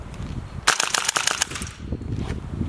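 Airsoft Kar 98K bolt-action rifle firing: a burst of sharp, loud mechanical cracks in quick succession lasting under a second, followed by clattering and low rumbling handling noise.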